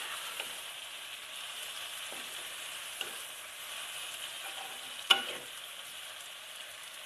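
Tomatoes fry in a pan for an okra masala with a soft, steady sizzle, broken by a few faint stirring clicks and one sharper knock near the end.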